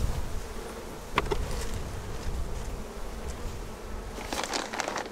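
A dense, continuous hum of tens of thousands of honeybees crawling and buzzing inside an open hive, steady and close throughout, with a few brief louder flickers of movement near the middle and end.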